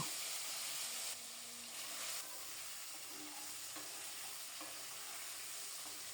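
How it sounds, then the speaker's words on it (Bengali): Half-boiled hilsa fish roe fries in hot oil with cumin, giving a continuous soft sizzle and hiss that eases slightly after the first second, heard alone and fairly quiet. "যেন ছড়াগুলো তেলে দেওয়ার সাথে সাথে তেলটা না বেশি ছিটকায়"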